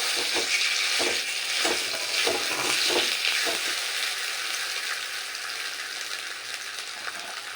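Boiled potatoes dropped into oil with nigella seeds, a loud close sizzle punctuated by a run of spatula stirs and scrapes early on, then a steadier frying hiss, no talking.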